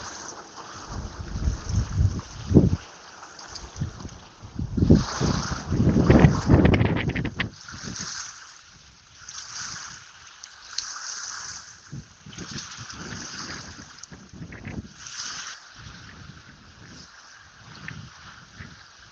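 Wind pushing waves against a lakeshore fishing spot, an uneven rumbling wash with buffeting wind gusts on the microphone, louder early then settling into softer lapping surges, with a boat motor faint nearby.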